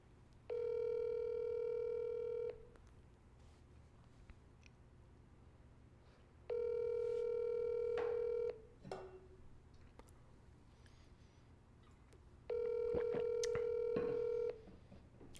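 A telephone call ringing out on the line, three evenly spaced two-second ringback tones separated by quiet pauses of several seconds, clear and steady.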